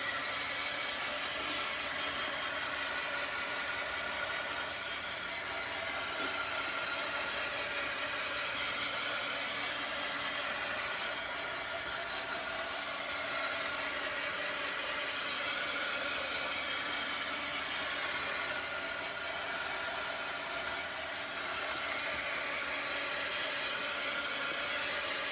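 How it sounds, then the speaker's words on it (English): A heat tool blows hot air over freshly stenciled paint to dry it, a continuous hissing whoosh held at an even level for a long stretch, close by and without any voices. "I'm going to grab my handy dandy heat tool and I'm going to come in here and get this all dried up."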